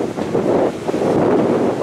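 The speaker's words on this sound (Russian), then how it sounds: "Ветер холодный, северо-западный." A cold north-westerly wind blows by the sea on a stormy evening, buffeting the microphone with loud, gusting rumble. Surf may be faintly mixed in.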